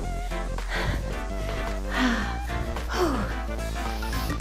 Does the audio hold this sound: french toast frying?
no